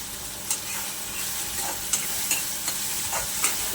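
Chopped onion and tomato sautéing in a pan for a Konkani potato and ivy gourd curry with dried shrimp, a steady sizzle broken by several sharp spatula scrapes and stirs, close and alone.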